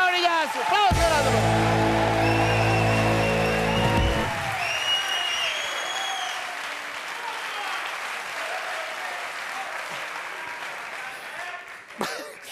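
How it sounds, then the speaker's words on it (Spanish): Loud crowd applause and cheering swell up and continue for several seconds, with voices mixed in, then gradually fade. "¡Aplauso grande para Eva y Torillazo!"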